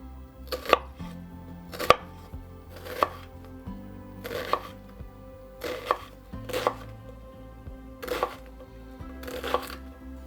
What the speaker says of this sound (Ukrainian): Далі нарізаю цибулю. Її потрібно нарізати кубиками.